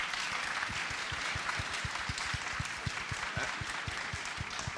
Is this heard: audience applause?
yes